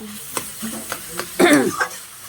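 Radish curry with prawns frying in a pan, with short clattering stirs and a brief louder burst of sizzle.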